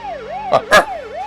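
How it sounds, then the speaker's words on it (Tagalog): A police car siren wails in a steady rising and falling pattern, loud and near, with two short louder bursts layered over it partway through. "Lugan ti pulis ti agtor dito."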